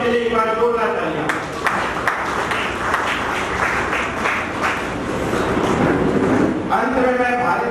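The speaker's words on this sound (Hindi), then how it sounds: "कृपया उनके लिए एक बार जोरदार तालियां।" A hall audience at a poets' conference and book launch in Agra bursts into loud, sustained applause for disabled children after their performance, dense clapping filling several seconds between a man's speech before and after.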